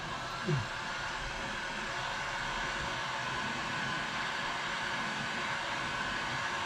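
A heat gun blows hot air onto the fender of a 4th-generation Acura TL being heated for rolling, a continuous loud whooshing hiss that stays steady throughout, with a brief faint knock near the start.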